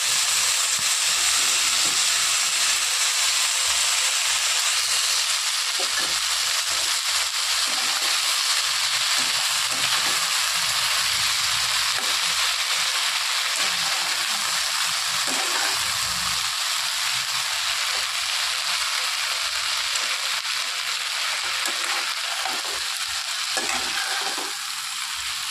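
Chopped water spinach, or kalmi shak, frying in hot oil with onion and garlic, giving a loud, steady sizzle and hiss throughout with occasional stirring scrapes and no voices.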